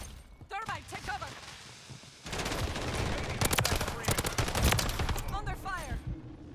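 Automatic gunfire in Call of Duty: Modern Warfare 3 rattles in loud rapid bursts across the latter half, after quieter shots and chirping effects, with in-game voice callouts mixed in.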